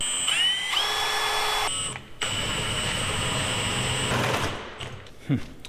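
A power drill whines steadily at high speed, pausing briefly partway before boring on again, then winding down with a few clunks at the end, as it drills a hole in intercooler piping for a turbo Datsun 510.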